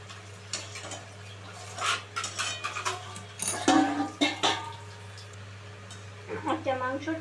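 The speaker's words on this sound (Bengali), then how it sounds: "মাংসটা আরও কিছুক্ষণ আমি কষিয়ে নেব" Chicken being stir-fried for kosha in a pan, with spatula scrapes and clinks against the metal in irregular bursts, over a steady low hum, with a voice talking at moments.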